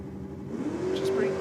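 Carburetted drag racing car with a carby out the bonnet, staged at the start line, its engine revving up to a steady rising drone over a second and a half, close and loud, with someone talking over it.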